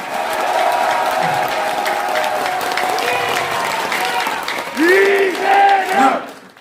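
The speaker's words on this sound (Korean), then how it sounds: "우리 이재명 대표님께 큰 박수 한번 더 보내주시기" A rally crowd in South Jeolla applauds party leader Lee Jae-myung, steady clapping and crowd noise filling the space throughout, with louder cheering voices rising near the end.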